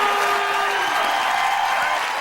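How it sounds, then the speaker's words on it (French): Audience applause at a live improv comedy show, a dense, steady roar of clapping from a crowd filling the whole stretch at full volume. "On applaudit nos 3 improvisateurs de ce soir."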